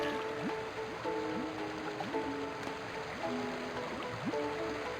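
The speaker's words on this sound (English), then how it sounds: "I'm still hearing swimming noises." Swimming in water in Sonic Adventure 2 video game: steady splashing and churning water sounds with faint game music tones running underneath, continuous throughout.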